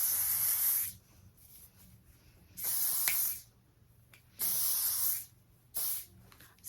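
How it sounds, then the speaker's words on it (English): Four bursts of hairspray hiss loudly and close by onto hair, each lasting about a second, separated by short quiet gaps. "spraying my hair with hairspray before I style it"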